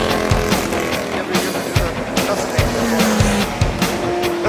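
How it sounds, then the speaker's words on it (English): A loud motorcycle rides on a race track at Sodegaura during a track day, its engine roaring close with repeated rising revs and shifts, and faint voices underneath. "his bike is loud as fuck"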